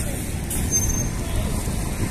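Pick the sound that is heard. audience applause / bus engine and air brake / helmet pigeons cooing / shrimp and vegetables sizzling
bus engine and air brake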